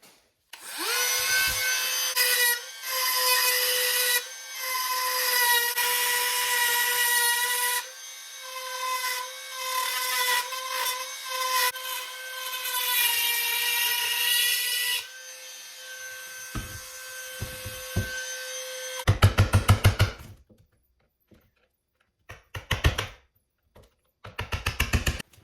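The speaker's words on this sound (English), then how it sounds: "we're gonna go ahead and use Dremel" A Dremel rotary tool cutting out the worn impeller wear ring of a 2004 Sea-Doo GTX jet ski, a steady high-pitched whine with grinding bursts for about fifteen seconds, then winding down to scattered knocks and handling noises.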